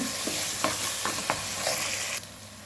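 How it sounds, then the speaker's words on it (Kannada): Tomato frying in a hot tempering for a fish curry, a steady sizzle with several soft stirring scrapes, close up and without speech, easing slightly toward the end. "ಟೊಮೆಟೊವನ್ನು ಸಹ ಒಗ್ಗರಣೆಗೆ ಹಾಕ್ಕೊಂಡಿದ್ದೇನೆ"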